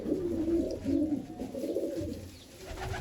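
Kallu, Kalchi and Cheena pigeons coo in a loft, a close, throaty, rolling murmur repeating in overlapping waves.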